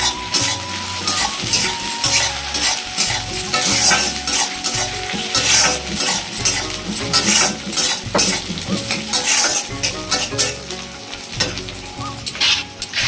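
Onion, capsicum and tomato sizzle loudly in a pan while a utensil scrapes and clatters against the metal in steady, irregular stirring strokes, close up and with no talking.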